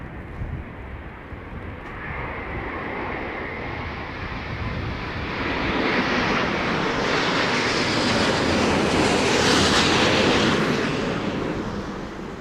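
A jet airliner lands head-on into strong wind at London Heathrow, its engines a loud, steady broadband roar that builds and swells as the aircraft passes close, with no talk over it.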